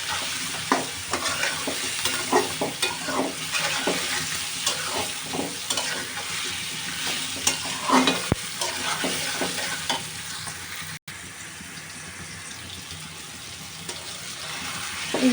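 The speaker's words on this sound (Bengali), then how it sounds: "এবার আমি আলু আর পেঁয়াজটা একটু ভালো করে ভেজে নেব।" Potatoes and onions seasoned with a little turmeric and salt fry in a pan, a steady close sizzle under repeated scraping stirs, with no talk.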